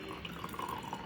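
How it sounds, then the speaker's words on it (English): Water is poured into a glass for a potato osmosis experiment, giving a quiet, steady trickling splash that runs continuously for about a second. "So I'm pouring this water in glass B."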